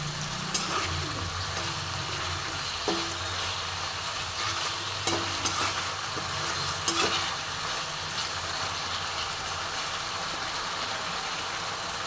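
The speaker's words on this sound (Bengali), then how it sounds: "খুব ভালো করে মশলাটা আমি কষে নেব।" Ginger-garlic spice paste sautés in oil in a pan with a constant dense sizzle, and a spatula scrapes and taps against the pan at a few points.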